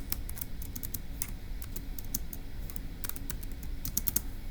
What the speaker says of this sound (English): let me go ahead and type that up in section C